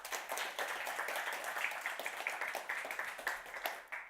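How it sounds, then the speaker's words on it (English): Audience applause at a React meetup, fairly faint and distant-sounding, with distinct hand claps forming a lively, uneven patter for about four seconds. "So a round of applause."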